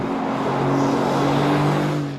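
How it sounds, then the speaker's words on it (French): Mercedes-AMG GT V8 engine and exhaust in Sport Plus or Race mode, a loud, steady, throaty roar that holds for about two seconds and then fades, with no talk. "Les modes Sport Plus et Race permettent en outre de profiter pleinement des vocalises naturelles du V8 par une dérivation du système d'échappement"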